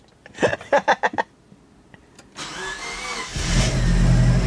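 Several short starter cranks on a Subaru with a swapped JDM engine, then the motor catches and settles into a loud, steady idle close by, with no one speaking.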